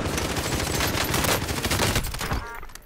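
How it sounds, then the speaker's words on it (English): Dense machine gun fire rattles in Call of Duty: Modern Warfare, a loud continuous burst of rapid shots that cuts off abruptly near the end, leaving a quieter tail. "It's a machine gun, no need to aim"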